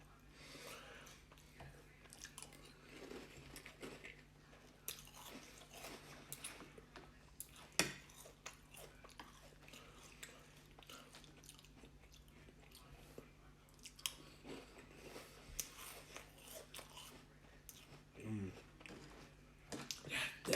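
Quiet, close chewing of Cap'n Crunch Berries cereal during a mukbang, with steady soft crunches and occasional louder bites and breaths spread across a long stretch.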